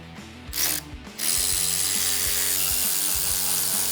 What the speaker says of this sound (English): We'll start over here on the driver's side, just pop off the valve cover.